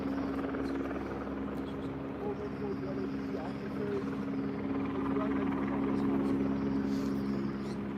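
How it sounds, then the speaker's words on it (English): A police helicopter hovers overhead near Alumni Park during a night-time campus encampment, a steady rotor drone that swells slightly louder toward the end, with a voice faintly underneath. "We still have a chopper hovering overhead"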